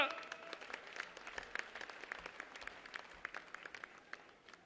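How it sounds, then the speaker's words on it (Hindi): A crowd at a Haryana political rally in Dabwali claps to welcome Kanta Chautala, the applause faint and distant, with scattered, uneven claps that thin out toward the end. "जोरदार जोरदार तालियों से स्वागत करें मेरी माता समान श्रीमती कांता चौटाला जी का"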